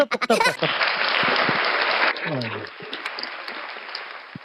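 Crowd applause on a casual live talent stream after a magic trick, a broad wash of clapping that swells quickly and holds steady, with a voice speaking briefly near the start.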